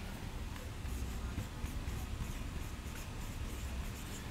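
The word energy is written by hand, giving a faint, continuous scratching and rubbing of a pen or marker on a surface, quiet and close, with no voice over it.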